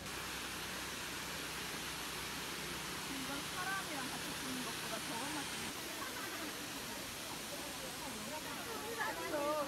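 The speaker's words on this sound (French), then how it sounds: "La cascade, on l'entend de loin." A steady, broad rush of waterfall in Jiufen, Taiwan fills the scene, constant and fairly distant, with faint voices murmuring underneath.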